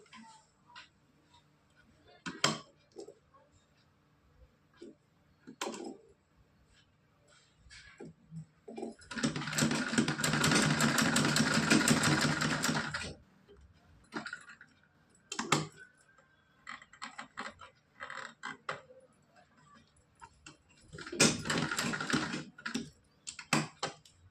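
A sewing machine stitches cloth for a Laddu Gopal dhoti, with two loud continuous runs of rapid mechanical whirring, one lasting several seconds and a shorter one near the end, separated by quiet handling clicks and taps.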